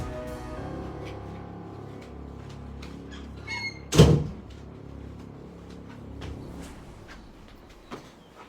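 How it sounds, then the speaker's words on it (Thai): A door bangs shut with a single loud thud amid faint background room noise and scattered small clicks, then the space settles back into quiet. "ลืมปิดประตูนะฮะ"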